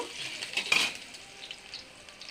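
Spices frying in a pan are stirred on a home kitchen stove, giving a soft, steady sizzle with a brief louder scrape of the spoon near the start. The sound is close and fairly quiet.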